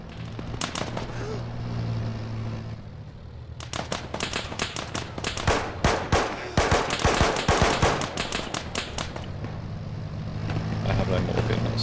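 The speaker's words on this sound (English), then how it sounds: "I see the guy shooting through the wall" Arma 3 military shooter firefight with an MG3 machine gun, sharp bursts of gunfire that start, pause, then return in a loud, dense stretch, with a person talking throughout.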